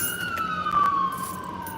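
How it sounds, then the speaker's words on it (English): Ambulance siren wailing through a steady, sliding tone, fairly loud and close, with no talking over it. "It's the ambulance."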